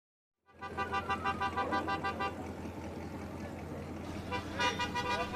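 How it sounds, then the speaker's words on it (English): At the 89th Sun Bowl Parade, a loud car passes with a deep engine roar and repeated horn toots that carry across a busy street, a sustained blare rising and falling over several seconds. "Wow, that is a loud car."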